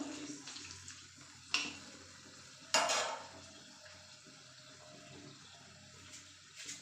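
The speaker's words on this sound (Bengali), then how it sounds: "একটু লঙ্কাগুলো ভাজা ভাজা হোক" Dried red chillies and bay leaves frying in hot oil for a vegetarian potato curry give a soft, steady sizzle, with a couple of sharp spitting crackles standing out.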